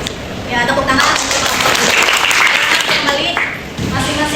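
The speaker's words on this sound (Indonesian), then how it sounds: "Ya, tepuk tangan." A classroom of people claps in a burst of applause lasting a few seconds, with voices talking over it.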